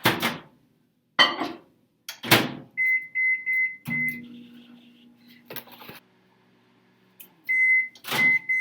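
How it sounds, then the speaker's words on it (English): Microwave oven heating a gluten-free vegan mug cake, its steady hum broken by clunks, door and button beeps and a few sharp bangs. "Now, you're just gonna plop it in the microwave"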